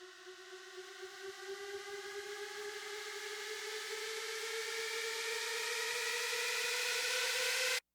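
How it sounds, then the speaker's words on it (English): Siren riser sound effect from the Cult Essentials pack: a steady wailing siren tone that climbs slowly in pitch over about eight seconds, over a bed of hiss, growing gradually louder and then cutting off abruptly, with no voices. "So this particular riser is in Dead March, and it's this stem called Siren Riser."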